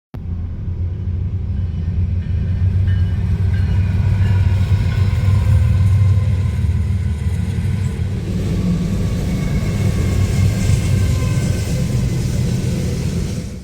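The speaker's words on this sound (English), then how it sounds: "managed to catch a Norfolk Southern sand train at the Tyler Street crossing, with an ex-Olympic CP Gevo trailing second" A Norfolk Southern sand train passes the Tyler Street crossing, a loud, continuous low rumble of locomotives and rolling freight cars that holds steady for the whole stretch before cutting off abruptly.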